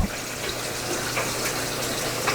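Water drains from a home fish tank during cleaning, a steady close rush and gurgle of flowing water that holds at an even level throughout, with no voices.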